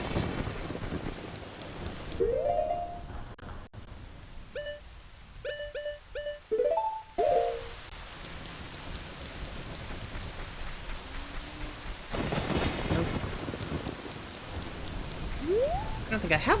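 Rain and thunder in The Legend of Zelda: Ocarina of Time, with steady hissing rainfall throughout and deep rolling thunder, while a short ocarina-like melody of bright notes plays partway through.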